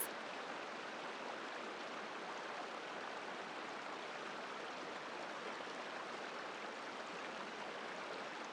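Small waterfall in the Genshin Impact video game, a steady broadband rush of falling water that holds constant and fairly loud throughout, with no voices.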